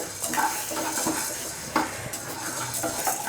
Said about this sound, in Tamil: 50 கிராம் துவரம்பருப்பு, அதையும் நல்லா பொன்னிறமாக வறுத்துக்கலாம்.